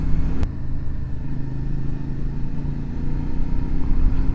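A CFMOTO 450SS sport motorcycle is ridden, its engine a loud, close, continuous low rumble that holds fairly even throughout.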